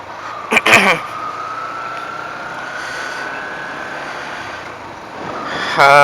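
Highway traffic passes while riding, a steady road rumble and wind wash with a faint passing vehicle tone, brief louder knocks and rattles near the start and end.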